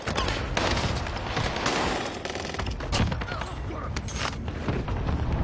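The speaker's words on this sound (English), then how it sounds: "Got right in the way as soon as I started shooting" Rapid video-game gunfire crackles in dense bursts and single shots with occasional heavier booms, loud and continuous across the whole stretch, with no clear voices over it.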